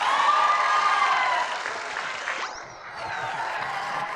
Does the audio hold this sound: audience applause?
yes